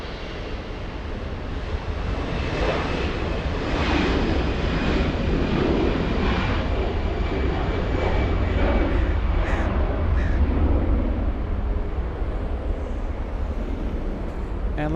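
A big airplane at LAX produces a steady, broad engine roar that holds at an even level throughout, with no distinct onset or fade.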